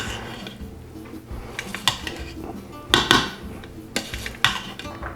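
Rice cooked with salami in an Instant Pot is stirred with a utensil, giving a run of scraping and clinking knocks against the metal inner pot, several sharp louder clanks among softer rubbing, close up with no talking.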